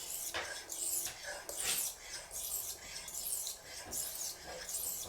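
A straight razor blade is drawn across a 1,000 grit sharpening stone to set the bevel, making repeated gritty, rasping strokes in a fairly even rhythm up close, with no talking.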